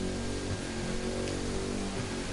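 Rain during a hypercar race in The Crew 2: a steady, dense hiss of rainfall over a low, continuous engine drone, with no pauses.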